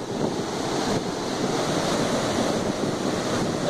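Small waterfall in Kerala, heard as a steady, close broadband rush of falling water, dense and even throughout with a touch of wind noise, and no talking.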